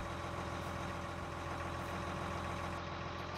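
Steady low drone of a Kirovets K-7M tractor engine heard from inside the cabin in Farming Simulator 19, a constant idling rumble without pause or change.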